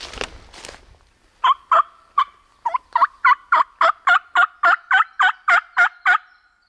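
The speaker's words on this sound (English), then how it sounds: "They just gobbled" A wild turkey calls on public land on opening day, giving a loud, close series of about fifteen evenly spaced, rhythmic notes after a brief rustle, with no talk.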